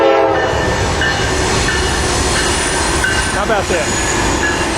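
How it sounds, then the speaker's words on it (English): A train rumbles past close by during a Labor Day group bicycle ride, wheels clattering loudly while its horn sounds in short blasts; a voice speaks briefly over the steady roar. "I got a train in here after all."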